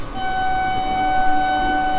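A Howrah to Belur Math local train pulling in, with a steady rumble and a sustained high tonal whine or horn held across the two seconds, loud and near, no talking.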